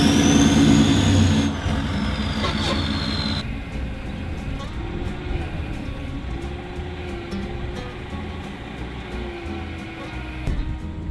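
A 79 series four-wheel-drive truck with a rear coil conversion strains its engine through a flex test, a loud, steady mechanical roar that drops in level after a few seconds and then drones on with small surges.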